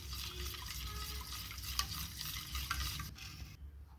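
Sugar being stirred into cake batter gives a close, continuous scraping and swishing against the bowl for a few seconds, easing off into quieter rustling near the end.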